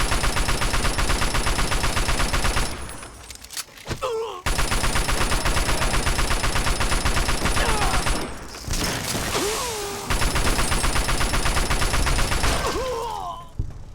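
Assault rifle fire in Fallout: New Vegas, sustained loud automatic bursts that fill most of the span, broken by two short pauses with brief creature cries and scuffles between volleys.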